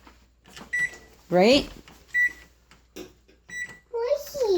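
A microwave oven cooking instant rice gives three short, evenly spaced keypad beeps as a 2-minute timer is set nearby. A child and an adult speak between the beeps.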